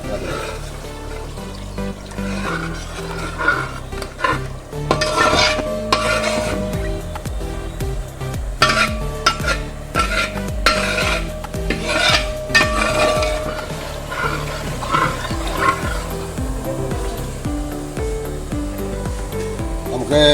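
A spoon scrapes and clatters against a metal pot while boiled tapioca is stirred into a thick paste, with repeated knocks and sloshing amid low background sounds.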